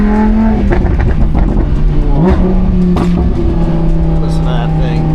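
A sports car engine revs hard, its loud, close roar rising and falling through several pitch sweeps over about five seconds, with a voice speaking briefly over it.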